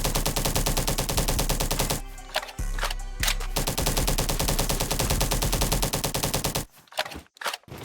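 Full-auto assault rifle with a 60-round magazine in Bad Business, firing long continuous loud bursts of rapid shots, a brief pause mid-stream, then a few short final bursts.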